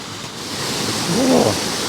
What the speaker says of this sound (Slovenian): Zdaj, slapiči.